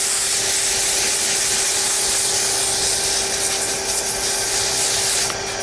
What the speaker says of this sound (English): I want to kind of just do a quick sanding